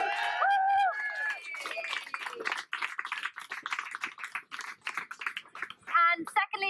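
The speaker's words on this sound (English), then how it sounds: "So can we just give them a quick round of applause?" A protest crowd at Empty The Tanks in London, 2018, gives the organisers a quick, fairly quiet round of clapping that patters on for several seconds, with a voice briefly heard before and after.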